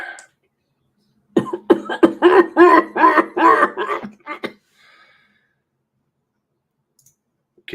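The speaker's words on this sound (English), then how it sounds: "Yes, I smoke. I cough." A smoker coughing in a rapid burst of harsh, close, loud coughs and throat clearing lasting a few seconds, then silence.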